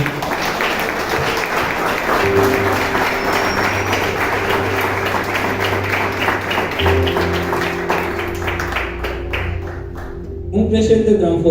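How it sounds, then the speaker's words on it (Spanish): A church congregation claps continuously through a worship service, sustained applause mixed with steady droning musical tones, then thinning out before a sudden change of sound at the very end. "Dale un fuerte aplauso al Señor."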